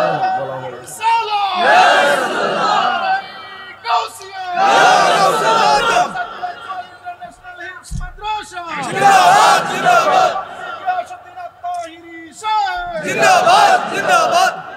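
A large crowd at an outdoor religious gathering in Narsingdi, Bangladesh, chants slogans in loud collective bursts that swell and fade in waves, with a voice on a loudspeaker calling between the chants.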